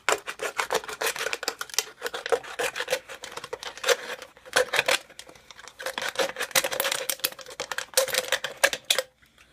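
Scissors snip and rasp through thin aluminum sheet in quick repeated bursts, close and crisp, with short pauses between cuts.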